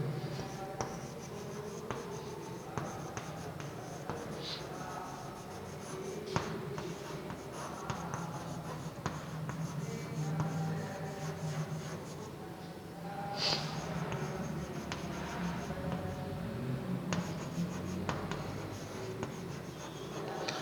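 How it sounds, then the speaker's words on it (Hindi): Writing a definition by hand, likely pen on paper, during a class 9 biology lesson on diffusion; steady faint scratching strokes continue for about twenty seconds, close up, with occasional breaths and soft handling sounds. "डेफिनेशन लिखेंगे पहले इसकी"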